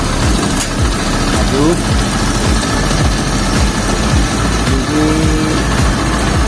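A heavy diesel engine of a Viar Karya dump truck idles steadily and loud throughout, with rattling mechanical noise and no clear talking over it.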